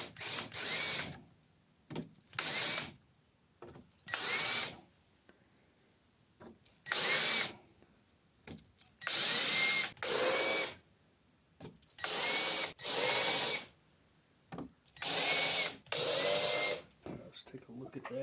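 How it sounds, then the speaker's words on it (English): Cordless power drill driving screws through pegboard into pine shelving, about ten separate whirring bursts of a second or so each with short gaps between, close and loud, with no talking. "So I'm going to get all those drilled in now."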